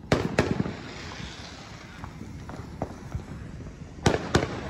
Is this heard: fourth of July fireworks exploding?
yes